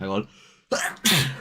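A sneeze bursts out during a paranormal live chat, following a moment of talk; a second explosive burst comes close after, loud and near.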